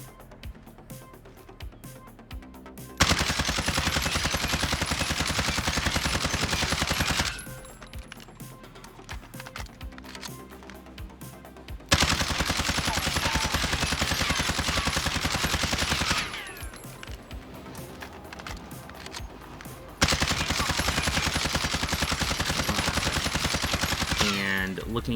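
CR56 AMAX assault rifle firing in the video game Warzone: three long loud bursts of rapid automatic gunfire, separated by quieter gaps with faint menu clicks and tapping.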